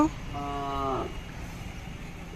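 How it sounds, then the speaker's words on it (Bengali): A single short moo from a cow tethered in a row at a rural cattle market, heard once over low background noise. "গাভী বাছুর এই যে দেখছেন সামনে কিন্তু সবগুলো সারিবদ্ধভাবে বাধা আছে"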